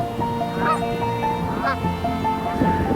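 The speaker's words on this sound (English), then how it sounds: "We got Canadian geese flying over us." Canada geese honk repeatedly overhead, a steady chorus of calls at moderate distance over a constant low background hum, in open Montana country.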